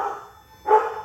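A goldendoodle barks twice from inside a house, a little distance away. The second bark is louder than the first, and no one talks.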